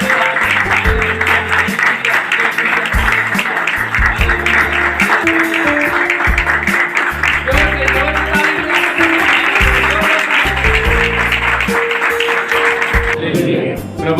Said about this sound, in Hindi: चलो काटो, जोरदार ताली।